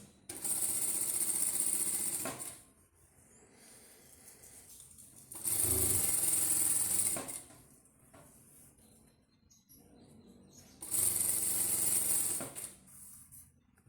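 Domestic sewing machine stitching back and forth while attaching bias binding to a cloth baby bib, three loud bursts of running stitches separated by short quiet pauses.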